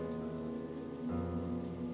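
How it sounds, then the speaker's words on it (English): Steady heavy rain pouring down as a sound effect in the visual novel game Umineko, a continuous wash with a low tonal background that swells slightly partway through. "Even if rain was pouring down."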